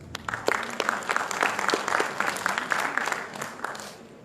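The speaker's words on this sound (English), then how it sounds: "Another round of applause, please." Audience applause at an international academic conference in Langkawi, Malaysia, after a keynote speech, steady, moderately loud clapping with distinct individual claps standing out before it tapers slightly.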